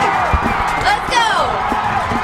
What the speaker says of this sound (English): This crowd is going absolutely Brockton nuts.